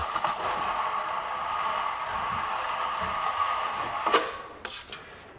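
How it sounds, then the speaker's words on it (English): Steel drywall trowel drawn along a compound-filled wall seam during a fill coat, a steady scraping swish lasting several seconds, then a few short scuffs as the blade lifts away. "Just gonna pull the trowel along"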